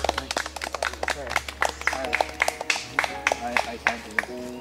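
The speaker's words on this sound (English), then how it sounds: "You deserve a round of applause." A small group of people clap in a round of applause at a Survivor-style fan game, uneven individual claps close by with voices talking over them.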